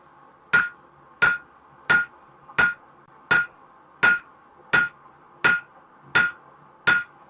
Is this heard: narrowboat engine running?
no